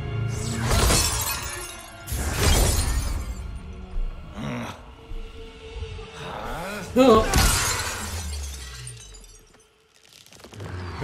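Glass shattering in Mortal Kombat 11 story mode, several loud crashing breaks spread across the stretch, each with a bright splintering burst and scattered debris, with game effects between them.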